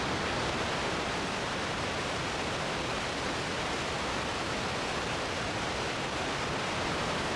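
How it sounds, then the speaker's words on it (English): Athabasca Falls, a powerful waterfall in Jasper, roars as a dense, unbroken rush of water that fills the whole scene at close range and stays loud and steady throughout. "Easily one of the most beautiful waterfalls I've ever seen."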